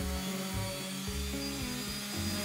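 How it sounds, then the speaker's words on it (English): A sander with a round pad works over 200-year-old Kiso cypress timber with a live edge. It gives a steady, close, whirring motor tone whose pitch shifts and wavers as the pad moves across the wood. "I finished the timber with a sander."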